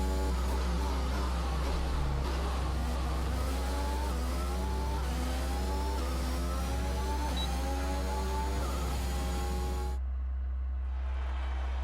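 A McLaren and an Alfa Romeo Formula 1 car race side by side in F1 2021 at the Canadian circuit, high engine whines climbing steadily through the gears, loud and sustained, then cutting abruptly to near silence near the end.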